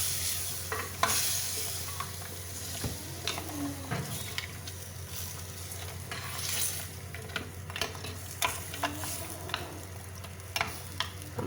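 Paya sizzles in a village-style pot with spices while a spoon stirs and scrapes it, giving a continuous frying hiss broken by irregular clinks and knocks of metal against the pot.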